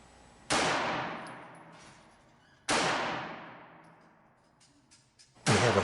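Three loud shots from an ASTRA A-60 .380 ACP semi-automatic pistol, spaced about two seconds apart, each a sharp crack followed by a long echoing decay.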